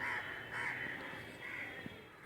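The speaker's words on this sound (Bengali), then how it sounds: "পাখিদের কিচিরমিচির এই যে এখন কাক" A crow caws in a village garden, several hoarse calls at a moderate distance over soft outdoor background noise.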